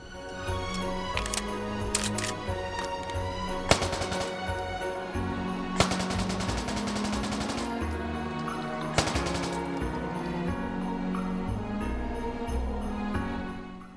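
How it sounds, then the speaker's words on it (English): MPK open-bolt submachine gun with folding stock firing in the VR game H3VR, with sharp rapid bursts and single shots cracking out over steady mechanical clatter and background hum. "Day 11, the MPK. Standard open bolt SMG with a folding stock."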